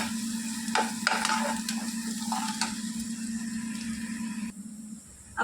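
Onion softening in hot oil in a pan while being stirred, with a steady sizzle broken by several short scraping strokes of the spoon through the first half, then the sizzle continuing more quietly.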